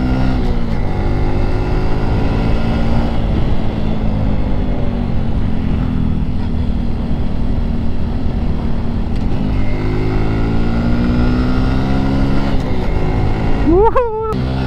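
A Suzuki Smash 115 Fi motorcycle climbs Mount Samat at full throttle. Its engine drones loud and close with a strained, steady note that dips and rises again, and there is a brief rev change near the end.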